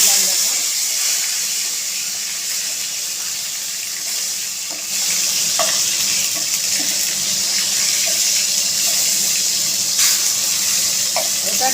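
Tomato frying with cumin for a vegetarian potato curry (aloo dum) produces a continuous close hiss and sizzle, with a few faint clicks and a brief dip midway.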